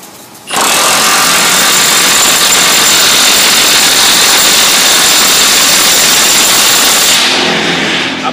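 A Milwaukee M18 FUEL cordless impact wrench (CHIWF12) runs at full power on a nut for about seven seconds: a loud, steady, harsh whirring roar that starts abruptly and then winds down, with no talking.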